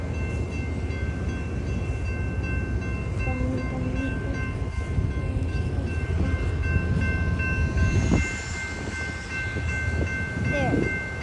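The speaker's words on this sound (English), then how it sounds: "Maybe there's another train coming" A train rumbles steadily nearby with a low mechanical drone and faint rail clatter, the noise swelling and shifting near the end.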